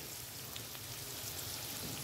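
Chopped onion sizzles steadily in a hot pan after a pinch of salt, browning as the base for a katla fish bharta; the frying hiss is soft, even and continuous, with no voices.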